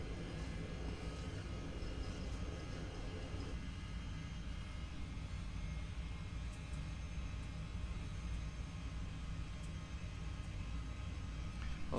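An airliner on a night departure from Kai Tak at full thrust: a steady, dense engine roar that fills the whole span without letup, heard from inside the aircraft, with no voices.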